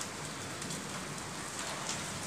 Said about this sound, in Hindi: और ओले थोड़े थोड़े से है देखो, ये गिरे तो है छोटे छोटे